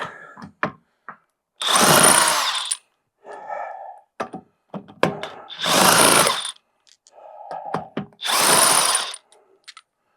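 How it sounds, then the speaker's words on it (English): An impact driver removing wheel nuts on an MGB, heard as three loud, roughly one-second hammering bursts spaced a few seconds apart. Small clicks and clunks of handling fill the gaps between them. "The impact driver down there."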